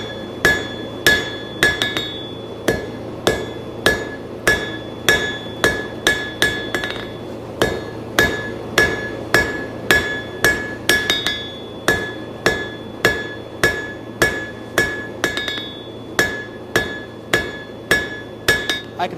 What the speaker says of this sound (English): when I hit it with my hammer, it'll also taper from the other side